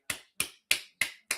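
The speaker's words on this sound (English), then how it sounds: "Boy, Renee, let's give Renee a golf clap, everybody." Five soft, sharp claps in an even rhythm, each one quick and crisp, with silence between them, as in a quiet golf clap.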